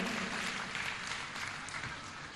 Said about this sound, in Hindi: एक बार चैनल वालों के लिए तालियां बजाइए।